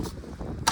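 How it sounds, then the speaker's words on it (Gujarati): Strong wind buffets a microphone outdoors in a snowy setting, a brief, steady low rumble with a louder gust at the end. "જોરદાર પવન"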